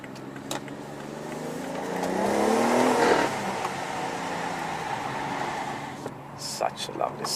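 A BMW 760Li V12 Excellence accelerates in sport gear mode, its engine note rising steadily from a low rumble toward a peak before settling into a smoother cruise, heard from inside the cabin with some brief clicks near the end.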